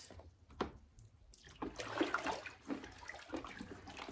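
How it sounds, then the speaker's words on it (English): Water splashes and runs while sweet potatoes are washed, irregular gurgling and sloshing close by in short bursts, with no talking. "I'm just washing the sweet potatoes for the second time and then putting it in a pot"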